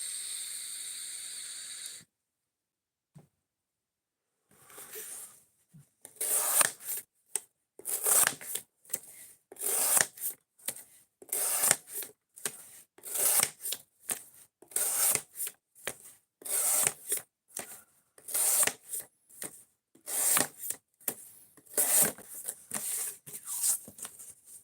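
An S35VN steel knife blade is stroked across a sharpening stone in irregular bursts of raspy hissing scrapes after a short quiet start, close up, with no talking.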